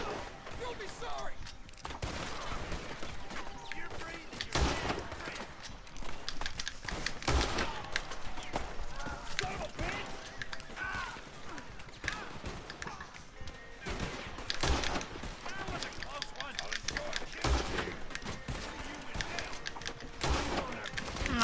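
Sniper rifle shots in Red Dead Redemption free roam: several sharp cracks spaced a few seconds apart cut through a dense, constant wash of game noise, with voices mixed in.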